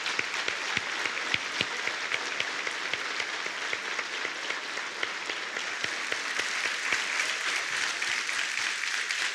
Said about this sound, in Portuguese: os homens vão ficar de pé e aplaudir de pé essas mulheres